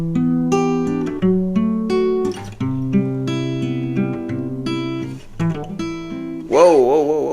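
A guitar plays a chord progression as a continuous fingerpicked pattern, notes plucked in quick succession across several chord changes, close and clear; a voice briefly breaks in near the end.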